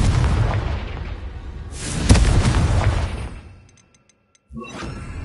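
The Confringo fire spell exploding in the game Hogwarts Legacy, a booming blast with crackling debris that rumbles for about two seconds, then brief silence before a fainter follow-up hit with ringing chimes.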